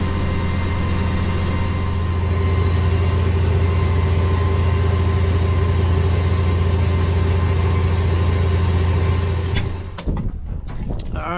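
A tractor engine idles with a steady low, droning rumble close by for about ten seconds, then cuts off abruptly, leaving faint rattles.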